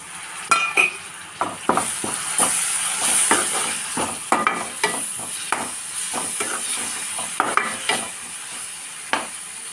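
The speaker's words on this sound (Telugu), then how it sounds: "ఇప్పుడు టమాటోస్ కట్ చేసుకొని వేసుకుందాం." Chopped tomatoes frying in a pan with dry prawns for a curry: a steady sizzle runs throughout, broken by frequent sharp scrapes and clinks of a spoon stirring against the metal pan, close and fairly loud, with no talking.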